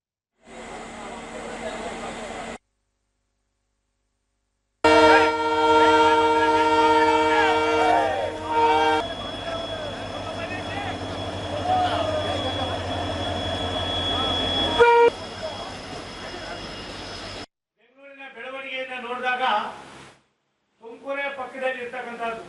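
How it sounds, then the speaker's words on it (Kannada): Yeshwantpur–Chikkamagaluru express train at a station, with loud sustained horn toots and rail noise over a continuous background, followed by people speaking near the end. "ಯಶವಂತಪುರ ಚಿಕ್ಕಮಗಳೂರು ಎಕ್ಸ್‌ಪ್ರೆಸ್ ರೈಲನ್ನು ಹೆಚ್ಚುವರಿ ನಿಲುಗಡೆ ಮಾಡಲು ಜಲಶಕ್ತಿ ಹಾಗೂ ರೈಲ್ವೆ ರಾಜ್ಯ ಸಚಿವ ವಿ ಸೋಮಣ್ಣ"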